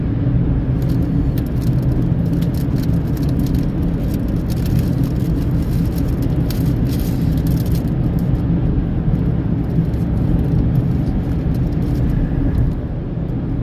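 A car drives steadily along a road, its engine and tyre roar a constant, loud wash heard from inside the vehicle, with no talking.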